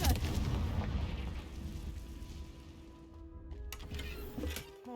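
A Confringo fire spell explosion in Hogwarts Legacy, with a loud fiery rumbling blast at the start that decays into a crackling tail and a brief tonal magic shimmer near the end.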